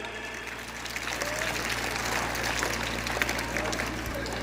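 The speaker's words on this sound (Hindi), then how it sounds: "इस आयोजन के लिए हम सभी जोरदार तालियों से स्वागत करेंगे" An audience at a village panchayat event applauds in a sustained wash of clapping that swells after the first second and holds steady, over a low electrical hum with some voices mixed in.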